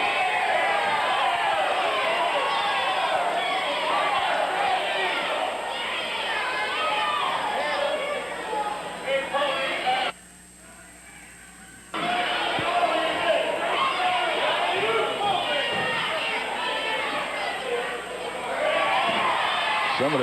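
Crowd at a 1982 Portland wrestling match shouting to alert the referee, a steady roar of voices heard from a distance with a brief near-silent gap partway through, while a commentator talks over it.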